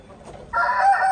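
A rooster crows loudly and close by, the call starting abruptly after a brief quiet moment.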